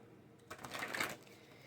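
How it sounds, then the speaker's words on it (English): A short, soft rustle of oracle cards being shuffled, one quick burst of riffling close up and fairly quiet. "let's give these guys a little shuffle"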